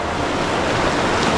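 Water rushes loudly in the Monardillo stream in winter, a dense, steady roar close to the microphone with no talking.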